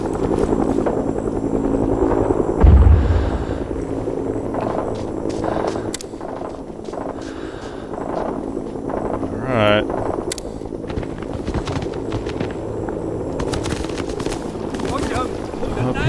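A helicopter drones steadily in the video game Rising Storm 2: Vietnam, its rotor noise continuous and fairly close, with scattered gunfire and voices talking over it.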